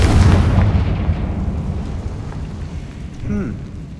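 A blasting Confringo spell blows apart a barricade in Hogwarts Legacy, a heavy low explosion that booms loudly up front and trails off into a long rumbling tail, with a faint rising game sound near the end.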